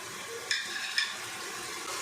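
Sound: frying spice paste with green chili and garlic

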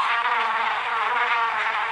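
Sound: flies buzzing

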